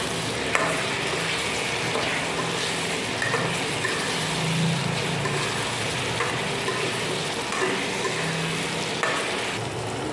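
A ginger, garlic and green chilli paste fries in a pan with onions for an egg chicken curry, giving a constant dense sizzle with occasional soft stirring scrapes and no talking.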